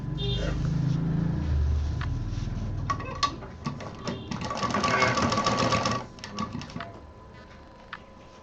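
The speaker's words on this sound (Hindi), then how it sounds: "इस तरह से पूरा लंबा सा इसको डबल करके पूरा सिलते चले जाएंगे" A sewing machine stitches a long doubled fabric cord for a DIY money gift pouch, running in a loud, steady rapid whir that stops near the end, followed by a few faint clicks.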